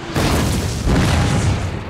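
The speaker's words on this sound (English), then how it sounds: "Plus a good mortar hit." A heavy mortar hit explodes in a Thirty Years' War Total War battle, a loud, dense boom with a long rumbling tail that fills the whole stretch.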